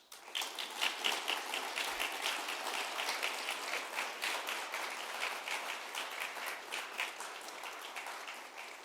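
A school audience at a Martin Luther King Jr. celebration claps after a speech, a sustained, even round of applause from many hands, moderately distant and with no talking.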